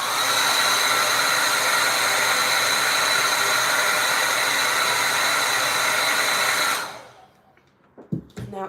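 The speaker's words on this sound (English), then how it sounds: "I'm gonna take my hair dryer." A hair dryer blows steadily and loud, close by, for about seven seconds while drying acrylic paint on a canvas, then cuts off, leaving a few small clicks and handling sounds.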